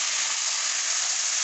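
Potatoes frying with onions in a pan for spiced khatte aloo, a steady bright sizzle running evenly throughout, close and fairly loud, with no talk.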